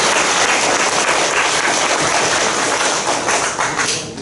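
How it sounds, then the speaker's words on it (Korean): A church audience of pastors and guests at a Korean Christian forum bursts into loud, steady applause in congratulation, a dense continuous wash of clapping that thins slightly toward the end. "축하하는 의미로 여러분 크게 한번 박수 한번 칩시다."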